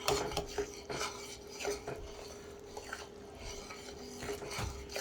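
A spoon stirs caramelizing pecan candy in a pot, making quiet, repeated rasping scrapes in an uneven rhythm with small clinks against the metal.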